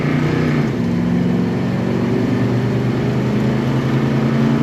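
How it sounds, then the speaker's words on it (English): A 1970 Plymouth AAR 'Cuda V8 engine revs steadily and loudly close by, holding a deep, rumbling, sustained roar with a slight drop in pitch early on, and no voices over it. "Just the sound of that V8, I could listen to it for days and days."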